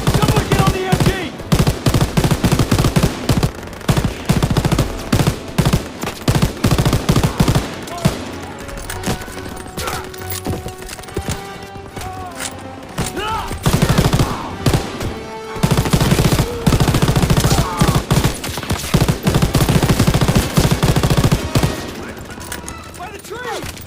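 Dense machine gun bursts and rifle shots crackle through a Call of Duty WWII battle, loud and close, in rapid clustered volleys with brief gaps, while voices shout beneath the gunfire.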